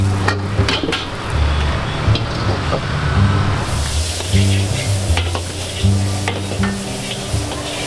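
Nasi goreng Pattaya fried rice frying in a pan at a Banda Aceh stall, with steady loud sizzling and repeated rhythmic stirring and scraping of a spatula against metal throughout, no talk.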